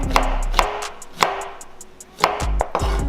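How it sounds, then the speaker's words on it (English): A knife cuts through carambola star fruit on a board, producing a few crisp, close chopping knocks at an uneven pace with a soft slicing rustle between them, and there is no talk. "I'm going to take first the carambola here, and we're going to take this and we're going to slice these"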